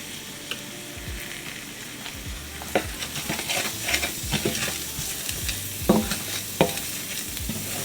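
Whole black peppercorns and smoked paprika sizzle and fry in a pan, close by, with a spoon stirring and scraping in irregular knocks over a steady crackle.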